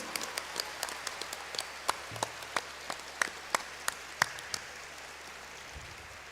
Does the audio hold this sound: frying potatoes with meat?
no